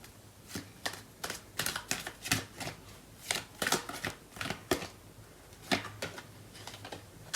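Tarot cards shuffled by hand alone, with a quick run of crisp riffling snaps and soft slaps, close and fairly quiet, coming in irregular bursts.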